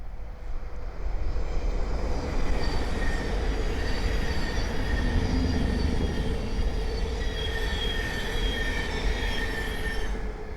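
Thameslink class 700 electric train passing on the East Coast Main Line at Great Wymondley, a loud continuous roar with high wheel squeals rising over it through most of the pass.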